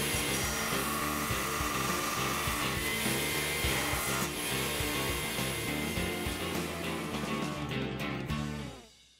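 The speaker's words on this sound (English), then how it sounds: "what I do is I just taper the clip edges on the grinder" A grinder tapers the clip edges of a horse hoof sneaker, a loud, continuous buzzing and rubbing whir held close throughout that fades out at the very end.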